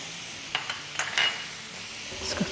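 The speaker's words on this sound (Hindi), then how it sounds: "इसको थोड़ा सा सौटे करेंगे" Whole spices, two black cardamoms, six or seven green cardamoms, black peppercorns and cumin seeds, sautéing in a pan for chicken mandi, giving a soft sizzle with a few light stirring clinks and scrapes across a short stretch.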